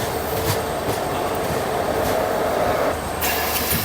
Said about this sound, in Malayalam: ഈ നമ്മുടെ ആസാദിക്ക അമൃത് മഹോത്സവ് ലിവറി അടിച്ച WP4 ആണ്.